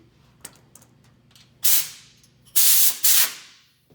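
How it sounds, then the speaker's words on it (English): Compressed air from Rotobrush R5000 negative air equipment, heard as a few faint puffs followed by three loud, sharp hissing bursts of spray, each lasting under half a second, the last two close together. "you can just go ahead and run your compressed air"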